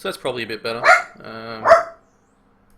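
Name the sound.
dog barking in the room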